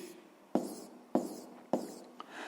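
Three short, evenly spaced strokes of a pen or pencil writing a minus sign in a maths exercise, quiet and close, with a faint extra tap near the end.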